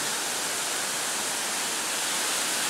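Ocean surf breaking on a cold California beach makes a steady, broad, hissing wash that holds at an even level throughout, with no talk over it.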